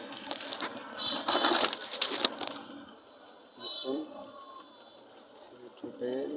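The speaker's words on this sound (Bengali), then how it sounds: "আমরা এই কয়েল এখন টার্নিং দিচ্ছি" Thin wire is pulled taut and wound into a coil for a 1000 motor, giving a buzzing, rustling pull that swells for a couple of seconds, then lighter scraping and tugging follows, with speech in the background.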